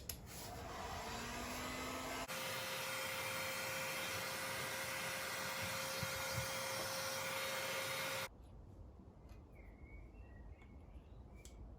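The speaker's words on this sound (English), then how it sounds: "it's just a matter of slowly working your way across with the heat gun" Steady broadband roar of a heat gun blowing across a Land Rover Defender decal, running continuously at close range for several seconds before switching to quieter outdoor ambience with birds.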